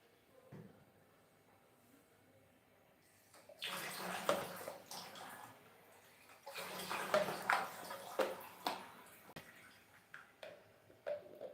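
Running tap water splashes while baby bottles are washed in a kitchen, a soft gushing stream that starts partway through and continues with small splashes, fairly quiet and without talk.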